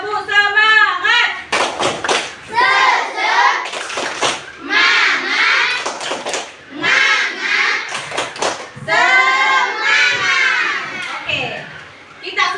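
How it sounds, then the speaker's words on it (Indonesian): A school class performs the 'tepuk semangat' spirit clapping routine, children chanting in unison between bursts of rhythmic clapping, close and loud, with a teacher's voice leading. "Tepuk semangat."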